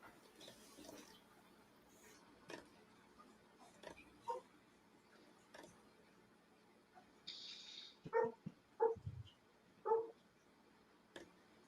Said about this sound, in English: Who is that barking?